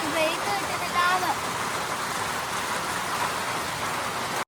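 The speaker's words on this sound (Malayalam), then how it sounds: "ഈ മഴ ഇച്ചിരി ഒന്ന് കുറഞ്ഞിട്ട് ഇവിടെ നിന്ന് ഇറങ്ങാൻ വിചാരിച്ചു." Heavy rain falls during a cycling trip in the hills around Longwa, Nagaland. A loud, close, steady hiss fills the whole stretch, a few faint tonal sounds appear early, and it cuts off abruptly at the end.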